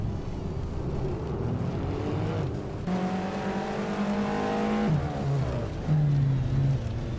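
A 2009 Renault Clio 3R race car engine in a racing video game, droning steadily then rising in pitch as it revs through gears, with a brief drop and recovery near the end; loud, continuous, and without talk.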